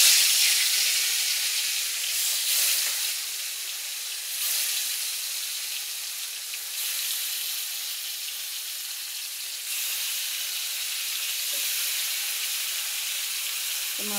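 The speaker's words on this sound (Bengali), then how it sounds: "এখন এখানে এবার মাছগুলো ভেজে নেব একেবারে।" Fish frying in hot oil after meat has been browned for a chicken curry meal, giving a steady, dense sizzle with soft crackles and brief spits throughout, close and continuous with no talking.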